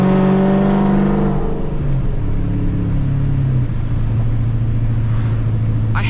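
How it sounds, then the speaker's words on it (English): A deep, loud Dodge Challenger SRT8 engine revs and then settles into a heavy rumbling idle, recorded up close. "Car sounds crazy."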